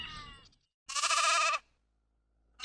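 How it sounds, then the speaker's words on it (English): A single sheep bleats once, a clear wavering call of under a second, heard close and alone after a short soft sound at the start. "Sheep,"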